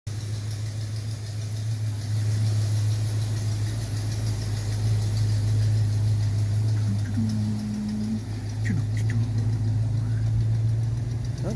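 An engine runs steadily after repair on a vehicle in 2-wheel drive moving under its own power, with a low even drone and a few faint clicks, no talk.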